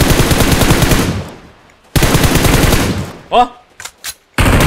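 Rapid automatic gunfire in the mobile battle-royale game PUBG Mobile comes in loud sustained bursts, split by short gaps and single shots, while a player's voice briefly speaks between bursts.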